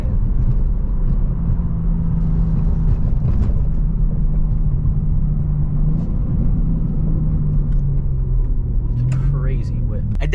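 A BMW's exhaust rumbles deep and steady inside a tunnel, a loud continuous low drone with a faint rising tone near the end, while someone talks over it.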